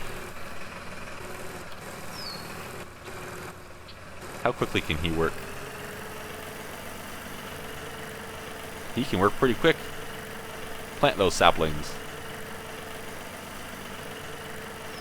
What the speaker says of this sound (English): No, that's my own tractor.